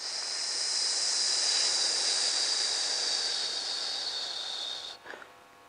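A long, steady, airy breath sustained for several seconds during a dance breathing exercise, close and even, then ending with a few small soft sounds.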